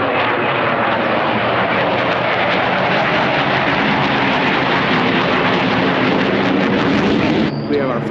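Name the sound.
propeller aircraft flying over at an airshow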